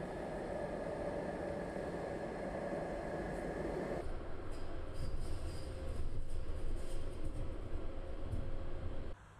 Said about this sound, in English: Ride through the new tram tunnel to Bohunice Hospital and back, with the tram number 8 from the main train station.